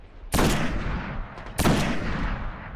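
Two loud, sharp sniper rifle shots from a first-person shooter game, about a second and a quarter apart, each with a long ringing tail that rolls through a steady background hum.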